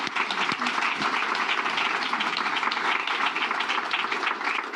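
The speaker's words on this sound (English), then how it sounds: "We can just give a huge round of applause to the team for that project." A crowd at the UK Passivhaus awards ceremony gives a sustained round of applause, thick and even, filling the room without any talk over it.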